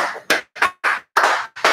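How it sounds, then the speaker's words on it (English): Hand claps come through a group call, about six separate bursts in an uneven rhythm with short silences between them, sounding close and compressed. "round of applause for my boy Nick"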